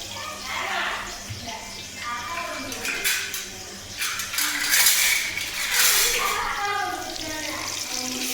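Onions go into a pot for a Friday special mutton biryani and are stirred, with metal clanks and scraping against the pot plus a frying hiss, close and continuous while a person talks.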